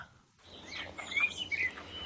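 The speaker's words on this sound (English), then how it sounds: "Cue birdsong" Birdsong sound effect in an outdoor radio drama scene: after a brief near-silent start, soft, bright chirps and warbling tweets rise over a low, faint background hum, moderately close, with no speech.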